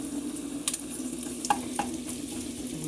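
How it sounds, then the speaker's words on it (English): Six or seven ginger slices sizzle in a pan in a steady, low hiss of frying, with a few light clicks of stirring or utensil taps over it, and no talking. "You're gonna put your ginger in there."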